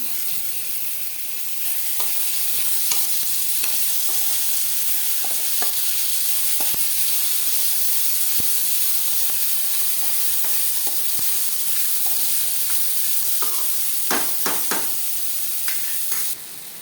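Tomatoes sauté in a pan with onions for a green peas curry, making a steady, close sizzle with occasional stirring scrapes and clinks of the spoon.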